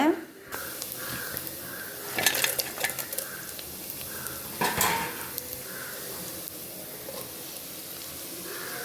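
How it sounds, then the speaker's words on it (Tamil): Chili and grated coconut sizzle while being tempered in a pan, a steady frying hiss broken by a few bursts of clattering spoon-against-metal stirring, with a voice speaking softly in the background. "சேர்த்துட்டு இப்போ நல்லா தாளிப்போம். நல்லா தாளித்து விடுவோம்."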